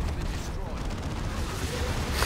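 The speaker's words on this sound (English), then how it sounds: "Alright, they're shooting the giant pustule that is my unit." Dense battlefield gunfire and artillery in a video game fight, a loud continuous roar of overlapping shots and blasts with no clear gaps, while a voice talks over it.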